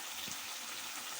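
Soy sauce poured into a pot of liver stew gives a brief, steady wet hiss, fairly soft and with no voices.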